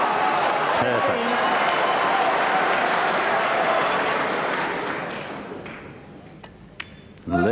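Rapturous snooker crowd applause and roar in an arena for Stephen Hendry, loud and dense, thinning out toward the end to scattered claps.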